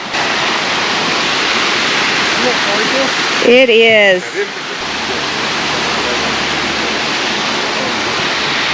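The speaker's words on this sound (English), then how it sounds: "Boy, I feel the mist off of the waterfall." Treasure Falls, a waterfall in Colorado, roars up close as a constant broadband rush of falling water, with a brief burst of talk partway through.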